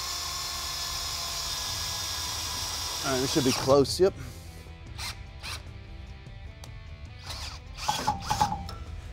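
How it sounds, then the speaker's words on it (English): A power drill whines steadily at close range as it bores into a soft iron Jeep Wrangler JK rear axle housing for tapping, then stops. Someone speaks briefly, and lighter tool sounds follow. "we've got to drill and tap the axle housing"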